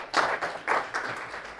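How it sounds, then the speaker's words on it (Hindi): An audience in a health talk applauds briefly, a dense wash of hand claps rising in two or three quick surges over under two seconds, moderately loud and without speech. "एक बार अपने लिए ताली बजा लीजिए"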